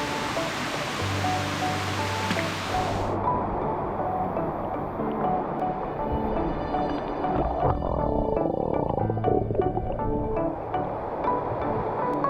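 Constant broad rush of falling water at Erawan Falls in Thailand, the seventh tier, steady and enveloping with no voices, a brief brighter hiss at the start fading into a deeper, duller roar.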